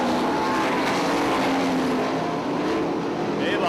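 A pack of 410 sprint cars roars around a dirt raceway in a dense, continuous engine drone heard from trackside, loud and steady throughout.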